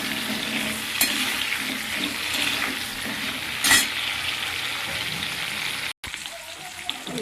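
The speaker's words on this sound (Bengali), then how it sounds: "পেঁপেটা ভাজা হচ্ছে" Papaya pieces with salt and a pinch of turmeric fry in a wok, giving a loud, steady close-up sizzle with occasional stirring scrapes and a brief cut near the end.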